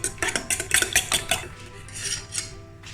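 Eggs and chopped garlic get whisked in a bowl, a quick rhythmic clinking of utensil against the bowl, close and busy at first, then softening into lighter stirring.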